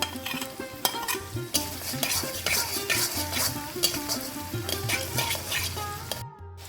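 Chopped garlic, ginger and chili frying in oil for street-style mixed chowmein, loud continuous sizzle with repeated metal spatula scrapes and clanks against the pan in a busy rhythm, under faint background music and no talking.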